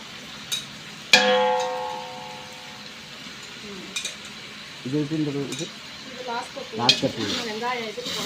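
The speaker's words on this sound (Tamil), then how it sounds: "அதெல்லாம் போட்டு நல்லா கிண்டி விட்டுறணும்." Biryani with mint and coriander sizzles in a pot while a ladle stirs it and clinks sharply against the metal, close by, with people talking over part of it.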